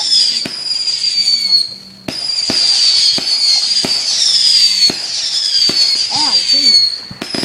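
Fourth of July fireworks on Eagle Hill Road burst in a steady run of loud, sharp booms, with crackling and whistling tails between them and people's voices underneath.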